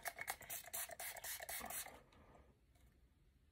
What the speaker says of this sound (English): I don't have it on, so let me spray it on.